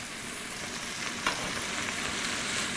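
Venison steaks sear in a hot pan, giving off a steady, loud sizzle and crackle that stays even throughout, with no voices.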